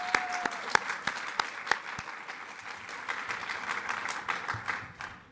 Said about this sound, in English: Let's give the SAMHSA, OASH, and HHS folks a round of applause too.